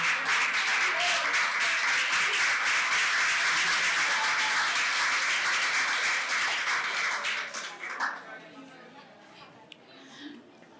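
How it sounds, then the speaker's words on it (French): A school quiz-contest audience claps steadily in a dense, sustained burst that fades out over the last few seconds, leaving quiet room noise. "On les applaudit, s'il vous plaît."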